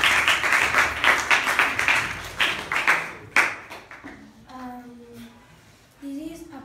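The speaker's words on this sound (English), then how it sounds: "A big clap for that, please." A secondary school class claps for a students' ocean project, a burst of quick, scattered hand claps for about three seconds that fades out, followed by someone speaking.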